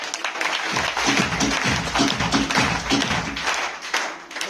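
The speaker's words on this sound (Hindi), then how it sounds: "सर के लिए ताली होनी चाहिए" An audience claps steadily for a speaker at a success-story seminar, dense overlapping applause at a close, even level with no speech over it.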